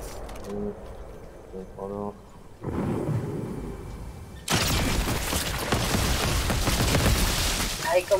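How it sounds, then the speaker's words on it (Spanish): Gunfire in the Fortnite video game, a sniper rifle among the weapons, comes in as a dense noisy burst partway through and then continues as a loud sustained volley, after some quieter sounds. "Ya me he ido acostumbrando a lo de los tiros."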